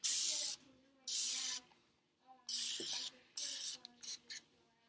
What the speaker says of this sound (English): So we're just going to be using some regular cooking spray.